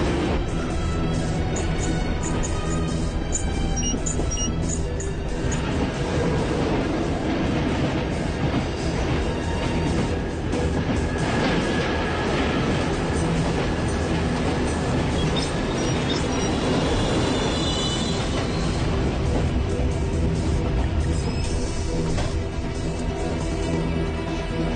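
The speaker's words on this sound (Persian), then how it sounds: "میتونی قطار رو متوقف کنی؟" A train runs steadily on its rails, a loud, continuous rumble with rattling wagons and intermittent clattering that carries through the whole stretch without a break.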